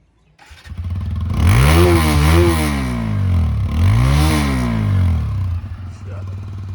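A TVS Apache motorcycle engine catches and is revved twice in rising and falling swells, loud and close, then drops back to a steady idle.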